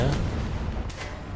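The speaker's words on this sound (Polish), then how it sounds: "Odbieram następne strzały." Tank cannon shots land in a War Thunder battle, a dense run of heavy booming impacts that stays loud throughout the short stretch.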